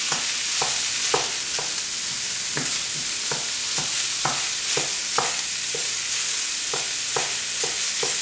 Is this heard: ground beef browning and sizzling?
yes